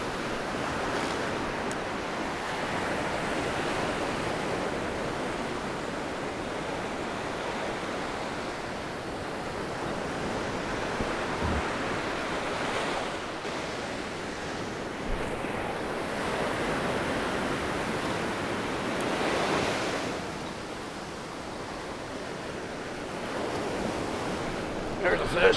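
Ocean surf breaks on a beach during surf fishing, a steady wash of wave noise with slow swells and some wind buffeting, moderately loud and continuous throughout.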